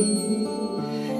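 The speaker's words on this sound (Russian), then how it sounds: "колокольчик" A small bell rings with a bright, sustained metallic tone and shimmering overtones, fading slightly over about a second with no voices.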